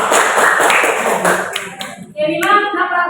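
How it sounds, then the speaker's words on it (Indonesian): Secondary school biology class claps together in a classroom, a brief burst of hand claps fading out, with a teacher and pupils speaking around it. "Luar biasa, tepuk dulu sudah ya."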